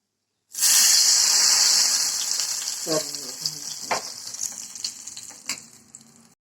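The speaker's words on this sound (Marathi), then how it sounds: "कढईत थोडंसं शेंगदाण्याचं तेल टाकलं आहे आणि थोडेसे जिरे टाकून मी तडका बनवून घेत आहे" Cumin seeds hit hot peanut oil in a wok for tempering, giving a loud sudden sizzle that stays bright and steady, with a few scrapes and light knocks as it fries.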